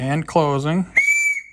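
Speech gives way to a steady, high, clear whistle from a whistle fitted in a motorcycle engine's spark plug hole on the compression stroke, holding about half a second, loud and close, then cutting off.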